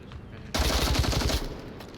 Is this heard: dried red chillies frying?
no